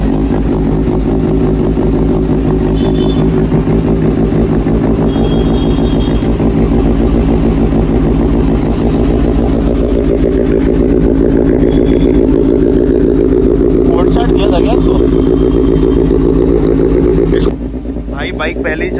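A 2025 Kawasaki ZX6R motorcycle engine, already warm, idling steadily close by with a constant mid-range drone, and someone speaks over it throughout before the sound cuts briefly near the end.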